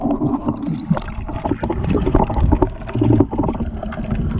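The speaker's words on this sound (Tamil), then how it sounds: "அலை அதிகமா அடிக்குது." Strong sea waves churn and wash at Ennore beach in Chennai, a dense, continuous rumbling surge of water with gurgling splashes, loud and close to the microphone with buffeting wind.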